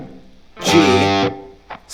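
Single distorted electric guitar sound through an effects unit, a sustained, harmonically rich note or chord ringing loud for about half a second, followed by a brief faint pluck near the end.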